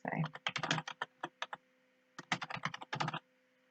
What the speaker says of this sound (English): And as I begin to type it in, all the different companies come up.